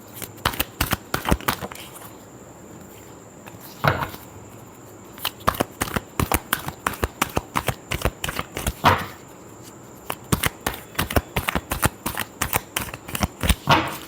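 Tarot cards are shuffled by hand in rapid bursts of crisp riffling clicks, close and loud, broken by a couple of brief pauses.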